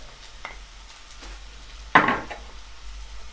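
Garlic drops into a hot pan and bursts into a sharp sizzle that quickly fades, following a few quiet stirring and utensil clinks, all close and without talk.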